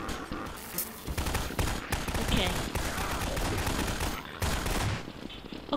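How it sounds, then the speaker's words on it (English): Rocket launcher fire in the Garry's Mod video game rings out as a dense, nearly continuous barrage of loud blasts and explosions, with brief lulls and what may be a voice mixed in. "The rocket launcher is powerful!"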